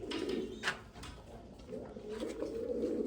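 Pigeons in a large loft cage coo softly in low, repeated throaty calls, with a few brief knocks and rattles like a cage door or latch in between, close and fairly quiet.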